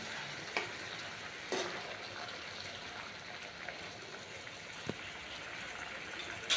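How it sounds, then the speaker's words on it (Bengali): Pointed gourds simmer in sugar syrup for a Bengali potol sweet: a quiet, even bubbling hiss runs steadily, broken by a few soft clinks from stirring. "চিনির রসে পুরো এগুলোকে ফুটিয়ে নিচ্ছি যাতে চিনির শিরাগুলো ওই পটলের ভেতরে ঢুকে যায়"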